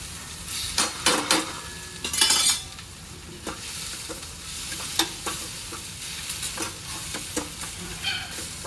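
Spices with chilli-ginger paste sizzle in hot oil while a spoon stirs and scrapes the pan, with intermittent clinks over a steady frying hiss.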